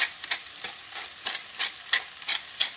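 Smashed burger patties seasoned with extra pepper frying briefly in a pan, a constant crackling sizzle with rhythmic brushy scrapes recurring about every third of a second, close by and with no voices.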